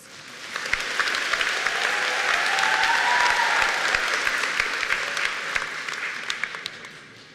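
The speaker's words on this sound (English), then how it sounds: "Let us give Ms. Daisilyn a warm round of applause" A graduation ceremony audience applauds for the valedictorian of a pharmacy assistant program, a sustained wash of clapping from a large crowd that swells and holds steady for several seconds.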